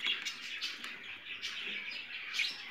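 Budgerigar chicks chirp and cheep continuously in soft high-pitched bursts, fairly faint and close, with no voices.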